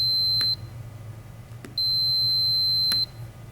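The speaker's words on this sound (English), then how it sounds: "I hear the beep." A Star Trac treadmill's quick start keypad gives two sustained electronic beeps, separated by about a second of low hum. Each tone is steady, clear and close.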